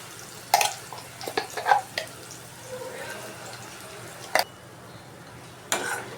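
Ground masala is sautéed with softened tomato in a pan, giving a faint sizzle under intermittent sharp scrapes and clinks from a stirring spoon.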